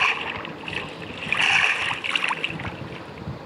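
Minecraft boat gliding across water, a steady washy rush with soft splashing swells that rise and fall, continuous and fairly close, with no talk.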